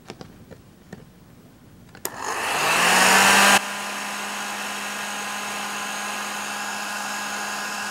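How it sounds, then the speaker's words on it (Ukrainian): A hair dryer heating hardwood roars on after a few faint knocks, a loud steady whoosh with a tonal whine that drops slightly in level and keeps running. "Фен звичайний і грію"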